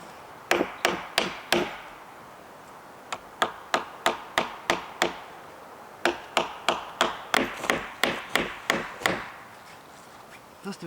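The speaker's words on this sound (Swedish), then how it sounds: "Nu ska vi spika på sådana här klossar." Hammer blows drive nails into wooden blocks outdoors at an off-grid workshop, with sharp, evenly spaced strikes in several runs and brief pauses between them, loud and close.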